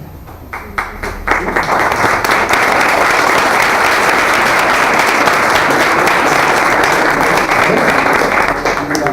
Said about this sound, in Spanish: Y ya que aplaudan